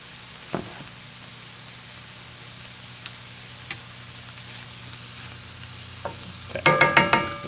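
Onion and mushrooms frying in a pan, a faint low sizzle punctuated by scattered utensil clicks, then a burst of louder rhythmic stirring scrapes at the end, close and without talk.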